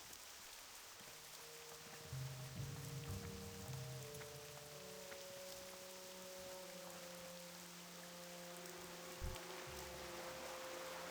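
Steady rain falls in the video game World of Warcraft Classic, a constant hiss of drops spread across the scene beneath soft tonal game music.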